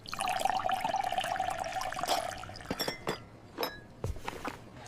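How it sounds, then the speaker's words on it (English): Water is poured into a glass with a steady, trickling splash that fades out, followed by a few light clinks and taps of glassware. "Let me pour that for you right away"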